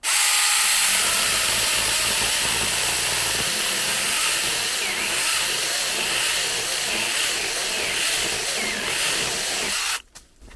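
A small cordless AVANT mini chainsaw whines loudly and continuously while cutting through thick wood, using nearly the full bar, for about ten seconds, then stops abruptly.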